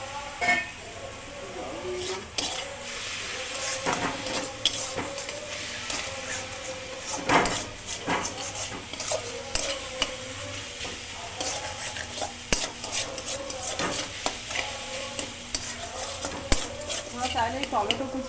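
Spice paste with Bombay duck fish sizzles steadily in a pan while a spoon stirs and scrapes it in repeated strokes, with pot clatter and background voices throughout.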